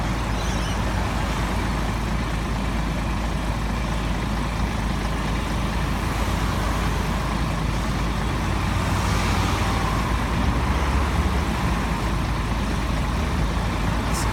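Volvo B10 bus with Ansair body, ex-Sydney 3872, pulls away in Newcastle, a low steady diesel rumble building slightly midway, heard from nearby over constant outdoor background noise.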